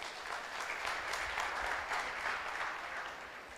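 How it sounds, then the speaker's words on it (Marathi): An audience at an annual work review presentation at an educational complex bursts into sustained, dense applause, loud and steady for a few seconds before easing slightly at the end. "एकदा टाळ्या वाजवा तुम्ही"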